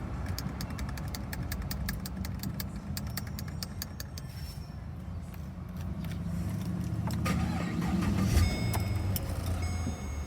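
A 2010 Holden VE Calais V Redline V8 engine with stock exhaust starts and settles into a low, steady idle, quiet and smooth, after some clicking and chiming inside the car.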